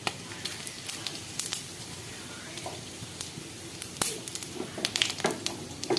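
Cloves, cardamom, cinnamon and cumin hit hot oil and crackle with a light, uneven sizzle punctuated by sharp pops and spits, fairly quiet and close, with no talking.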